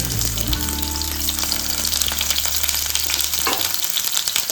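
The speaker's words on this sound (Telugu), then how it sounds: "ఆయిల్ వేడైనాక ఇట్లా ఫ్రై చేసుకోవాలండి" Masala-stuffed brinjals frying in hot oil for gutti bandakaya fry, a loud, constant crackling sizzle close by with occasional spatters and a low hum that cuts out near the end, no talking.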